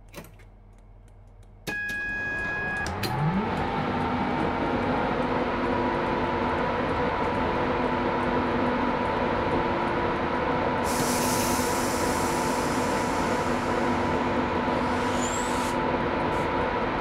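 Class 89 electric locomotive "The Badger" on the East Coast Main Line south in Train Simulator 2021, a quiet cab hum before a steady loud running drone starts, with a rising whine and a brief hiss layered in later.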